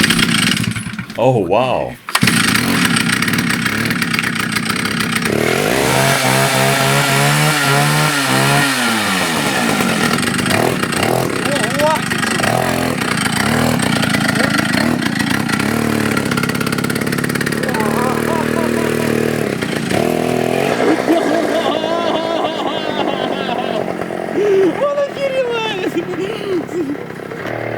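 A homemade DIY snowmobile built from a bike starts up with a brief cranking sputter, then its small engine idles and revs loud and close in rising and falling surges for nearly half a minute, with a person speaking briefly.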